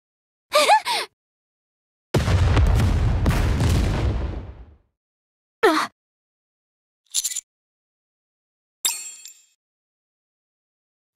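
A booby trap explodes on the surface near a radio tower in the Goddess of Victory: Nikke video game, a heavy blast with a rumbling tail lasting about two seconds, set among short metallic clangs and dings.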